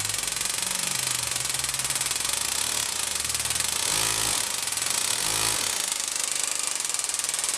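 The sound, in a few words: engraving tool with ball hitting back and forth inside cylinder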